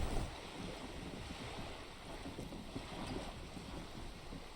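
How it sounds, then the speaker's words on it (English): In Disco Elysium, wind rushes around a boat and flaps its sail overhead, a steady airy hiss with soft fluttering, moderately quiet, with no voices. "The wind flaps the sail above her."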